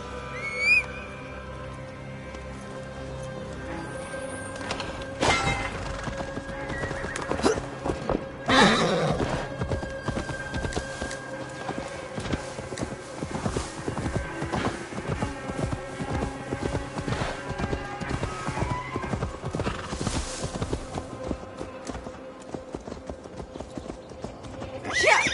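A horse in the game Assassin's Creed Valhalla gives several loud whinnies over steady clip-clopping hooves, with a game music bed running underneath.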